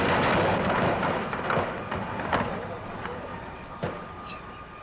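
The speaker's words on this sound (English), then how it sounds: "there was rifle fire." Rifle fire from National Guard troops during a 1970 campus protest at Kent State, heard as a series of sharp distant cracks and thuds over a dense, rumbling crowd-noise background.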